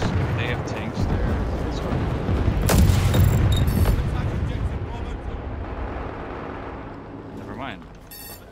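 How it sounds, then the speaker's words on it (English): Airstrike explosions roll out in a military video game, a deep sustained rumble of booms with a heavy swell in the middle that slowly fades, with spoken voice lines over it. "Friendly airstrike incoming."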